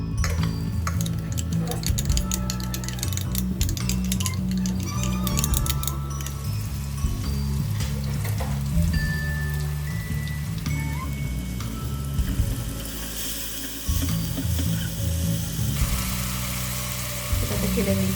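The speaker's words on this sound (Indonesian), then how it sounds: "Kita tumis dulu bumbu yang udah di blender tadi." Blended spice paste sautéing in a hot pan on a stove for tahu tempe bacem, a steady close sizzle with occasional clinks of a utensil against the pan, running continuously without talk.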